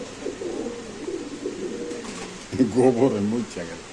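High-quality club pigeons cooing in soft, repeated throaty phrases close by, with a louder run of coos near the end, while someone talks over them.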